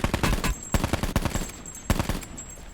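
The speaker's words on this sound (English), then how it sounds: "I'm bursting the gun a little bit there" Short bursts of automatic gunfire crackle in the Call of Duty Blackout video game, sharp repeated shots in several quick volleys with brief pauses between.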